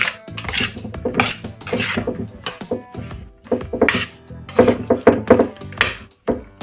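Marinated mutton pieces are tossed and mixed for mutton 65, giving loud, close rubbing, scraping and clattering bursts in uneven strokes with short pauses between them.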